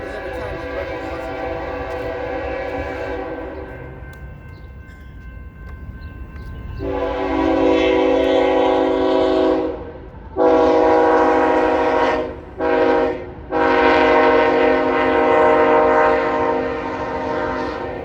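A passing train rumbles steadily while its horn blares in a long, long, short, long pattern, loud and close.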